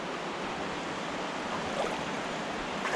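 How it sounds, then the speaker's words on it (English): Steady broadband rush of flowing water from a rapid or small waterfall on a river on Vancouver Island, Canada, heard as a continuous even roar with no voices. "I hear another rapid up there, or a small waterfall,"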